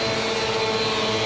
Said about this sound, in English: we got the vacuum experience